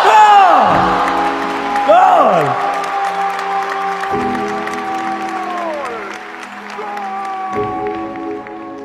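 An audience at a talk shouts a goal call together in long, loud held voices that rise and fall, followed by cheering, whoops and applause that slowly fade.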